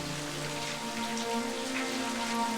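Steady rain falls continuously with a dense patter on surfaces, a constant wash of drops filling the scene from start to finish with no voices.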